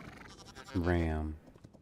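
A ram in the video game Hytale gives a single drawn-out bleat, loud and close, rising and falling in pitch before quiet game background resumes.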